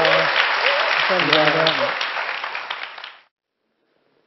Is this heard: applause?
yes